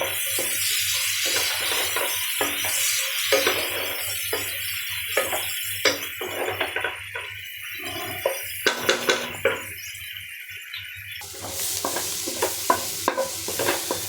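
Onions with a pinch of salt fry and get stirred in a pan for a prawn and vegetable dish, with steady sizzling under repeated scraping and clinking stir strokes, close and fairly loud, no talk.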